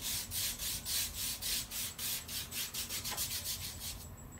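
Skateboard griptape scrubbed by hand in steady back-and-forth strokes, about sixteen rhythmic rasping passes close up, slowing slightly toward the end, with no talking.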